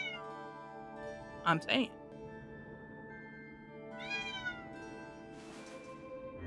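A pet cat meows twice in quick succession at close range, loud and brief, over steady background music from a Skyward Sword HD game session, with a person talking.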